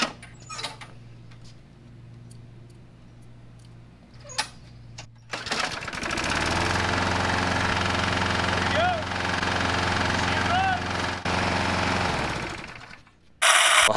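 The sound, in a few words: Craftsman 21-inch lawn mower engine running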